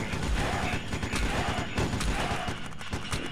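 Continuous gunfire from the video game Larva Mortus rattles in dense, rapid bursts of loud thumping shots, filling the whole stretch with a chaotic barrage.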